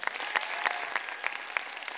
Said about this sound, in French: applaudissez-vous encore